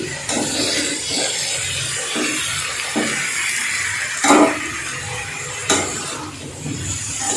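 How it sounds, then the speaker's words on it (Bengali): Already-boiled bottle gourd greens with bean seeds being fried in a pan, a soft sizzle under repeated scraping and clinking of a spatula against the pan, close and unaccompanied by talk. "4-5 মিনিট ভাজলেই কিন্তু শাকটা হয়ে যাবে"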